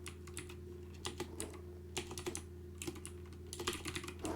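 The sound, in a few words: typing on a computer keyboard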